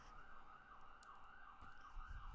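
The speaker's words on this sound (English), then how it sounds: "I cannot with those sirens." A distant emergency vehicle siren wails in a faint, steady rising and falling tone under quiet background noise.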